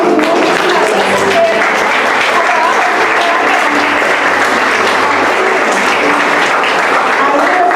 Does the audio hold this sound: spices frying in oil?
no